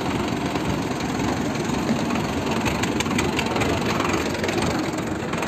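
A tractor engine idling at a farmers' protest at the Red Fort in Delhi, a steady, close, even drone with no clear talk.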